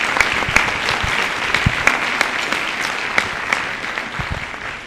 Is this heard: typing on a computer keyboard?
no